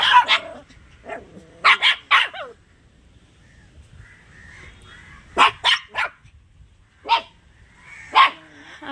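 Dogs bark in sharp clusters: a single yap, then a quick burst of three, a pause, another rapid three, and two more isolated barks. They are fairly close and clear against a quiet background.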